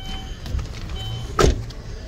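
Electric power window on a Chevrolet Lacetti motor, button-operated, whirs briefly in a short burst ending with a thunk as the glass stops, close up and alone.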